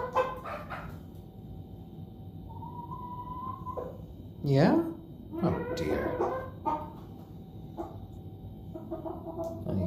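An ayam cemeni hen and an onagadori hen make a varied run of soft clucks and short calls, some rising and drawn out, while a person talks briefly nearby.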